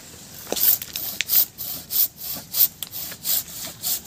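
Hand saw cuts through a mango tree branch in a steady rhythm of about a dozen rasping back-and-forth strokes, close and clear with no talking.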